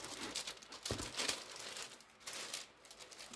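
Paper packaging wrapped around a silk top crinkles and rustles as it is unwrapped, with quiet, intermittent crackles and a few sharper bursts, heard alone.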